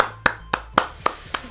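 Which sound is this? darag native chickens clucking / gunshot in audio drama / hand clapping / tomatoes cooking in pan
hand clapping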